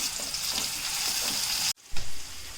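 Sliced onions frying in hot oil and ghee for biryani, a steady loud sizzle with stirring, then a brief cut to silence before the sizzling resumes with a couple of stirring bumps; no talking.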